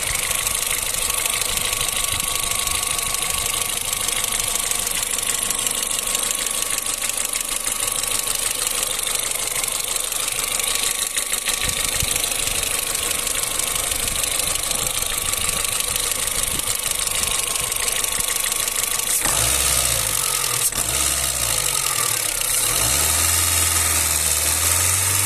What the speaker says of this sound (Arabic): توا باش نسمعك صوت الموتور